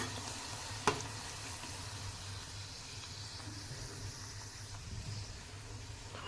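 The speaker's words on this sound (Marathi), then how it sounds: "तेल चांगलं गरम केलेलं आहे गॅस मोठा ठेवलेला आहे दोन्ही बाजूनी छान पुरी तळून घेते" Puri deep-frying in hot oil over a high flame, a steady close sizzle and bubbling that runs throughout, with one brief sharp knock near the start and no talk.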